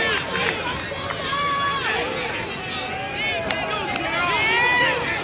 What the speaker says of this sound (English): Hearing the crowd yelling, ambush, don't give up.